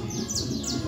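A Criollo canary sings in brief, rapid chirping trills, close and clear over a low steady background hum.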